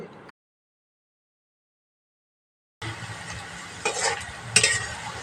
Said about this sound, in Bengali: এখন সুন্দর করে ব্রাউন কালার করে পেঁয়াজ বেরেস্তা করে নিতে হবে